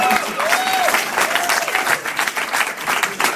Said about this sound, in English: Let's have a round of applause for all our full beard freestylers